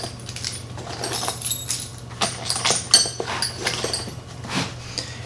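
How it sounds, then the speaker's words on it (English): A bunch of keys jangles close to the microphone, with repeated metallic clinks and rattles in irregular bursts for several seconds over a low steady hum. "And then I carry keys."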